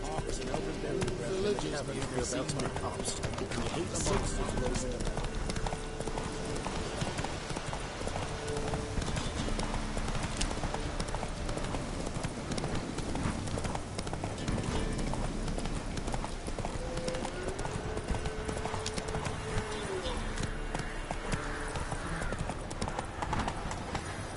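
Roach the horse galloping in The Witcher 3, with a steady clip-clop of hooves running throughout under a constant bed of game sound and music, while someone speaks.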